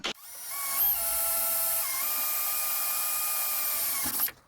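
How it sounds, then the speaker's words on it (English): A power drill whirs steadily at high pitch for about four seconds while drilling a hole in a 1984 Bertone X1/9's front bumper, starting with a brief kick and stopping abruptly, close and loud with no talking. "I'm going to go ahead and drill another hole here"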